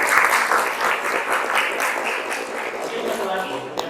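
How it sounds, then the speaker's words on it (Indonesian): Applause from an audience at a university teaching-practice session in Indonesia, steady and fairly loud clapping sustained through the whole stretch, with a voice talking over it. "Kita beri tepuk tangan."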